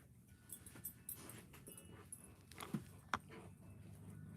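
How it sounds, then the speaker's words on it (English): Soft dog whimpers and a brief yip from a 150-pound Rottweiler backing off from a smaller 60-pound dog, faint and scattered over a low indoor background. "Never seen a 150-pound Rottweiler cowed by a little dog."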